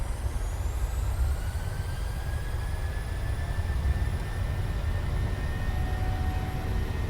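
Boeing 737 jet engines in a PMDG flight simulator roar steadily at takeoff thrust, a dense continuous rumble with a faint rising whine, loud and constant with no talk.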